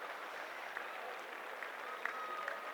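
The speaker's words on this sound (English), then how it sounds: "And the applause is from the Oldham fans, generously on the far side." Oldham fans at a rugby league match against London applaud from the far side of the ground, a faint, distant, steady patter of clapping with a few sharper claps standing out.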